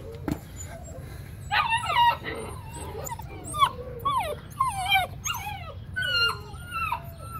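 A six-week-old Central Asian Shepherd puppy whimpers and yips in a run of high, rising whines, several short cries in a row over a low steady background hum.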